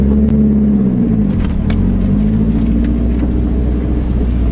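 A drifting car spinning tight donuts, its engine droning loud and close with a steady rumble and rising revs, no voices.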